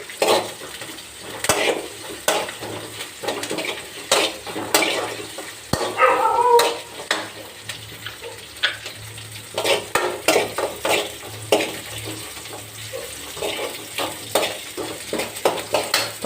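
Slit green chillies frying in a pan, stirred with a utensil that scrapes and clinks against the metal in an irregular rhythm over a steady sizzle. Several louder clatters stand out from the cooking noise, and no one speaks.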